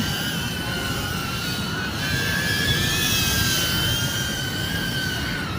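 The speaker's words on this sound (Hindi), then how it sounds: "ये देखो ये ड्रोन उड़ रहा है" A small drone flies outdoors, its steady buzzing whine with tonal harmonics holding continuously over a broad rumble of wind or background noise, fairly close and constant throughout.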